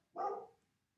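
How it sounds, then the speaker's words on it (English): A single short dog bark, soft and somewhat distant, heard once in the background of a quiet room and fading quickly. "That is your dog in the background."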